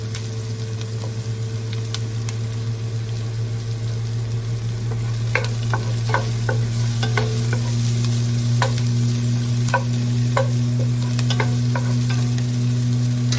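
Garlic and chopped tomatoes crackle and sizzle continuously in a hot frying pan for Filipino sautéed pechay with sardines, with sharp clicks and scrapes of a utensil stirring through the second half, no voices.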